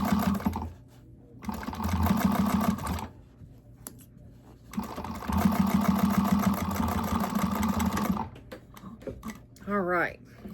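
Sewing machine stitching through both layers of a fabric bag pocket, two long bursts of rapid, even mechanical whirring separated by a pause, followed by a brief squeak near the end.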